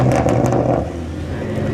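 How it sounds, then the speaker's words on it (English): A Nissan GT-R R35 pulls through a street car meet, its engine revving loud and close with a deep, throaty rumble that eases slightly as it moves on. "GTR gang pulling through"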